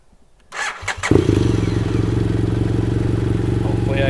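A BMW F800GS motorcycle cranks briefly with a clatter, then fires and settles into a steady, close, rumbling idle that continues to the end.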